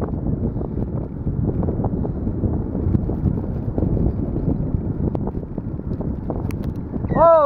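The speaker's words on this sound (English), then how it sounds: "Hopefully you can hear me over the wind" Wind buffeting a microphone while cycling outdoors: loud, continuous low rumbling gusts that rise and fall unevenly, with a brief high whistling chirp near the end.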